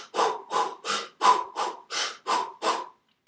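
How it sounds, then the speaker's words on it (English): Runner's breathing in a one-in, two-out rhythm: eight evenly spaced, close, breathy puffs of air, loud and alone. "I'll go into a one in, two out"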